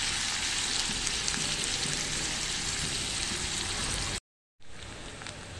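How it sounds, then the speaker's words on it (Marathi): Chopped onion frying in hot oil in a home kitchen, a steady close hiss and crackle of sizzling that briefly cuts out near the end before resuming. "आता मी तेलामध्ये कांदा टाकते। आपण कांदा लाल होईपर्यंत भाजून घेणार आहे।"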